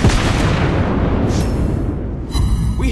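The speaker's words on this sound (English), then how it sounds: "Enemy ship destroyed." Naval gunfire and explosions from the Worcester cruiser in the World of Warships Blitz video game: loud, dense booming blasts rolling together for a few seconds with little pause.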